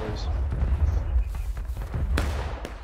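Musket volley in War of Rights, scattered booming shots and cracks amid a rumbling battlefield din, some close and sharp, others duller, with shouting voices mixed in over the fire.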